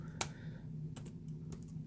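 A few sparse keystrokes on a computer keyboard while entering a terminal command on Linux Mint, three separate taps spaced out over steady low background hum.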